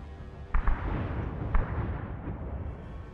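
Artillery shells burst near a military base in Arma 3, with a few dull booms landing at a middle distance over a steady low rumble of battle noise.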